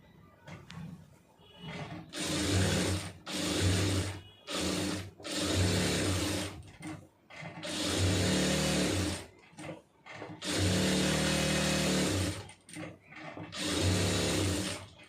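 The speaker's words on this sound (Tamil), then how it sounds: "கரெக்டாக அந்தந்த இடத்துல அப்படி அப்படியே ஊசியை வச்சு தைச்சி கரெக்டாக நிப்பாட்டி அதுக்கப்புறம் திருப்புங்க" A sewing machine stitching a blouse runs in repeated loud, steady bursts of whirring stitching, separated by short pauses, with no voices.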